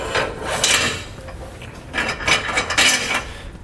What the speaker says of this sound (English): We'll pull on our pull wire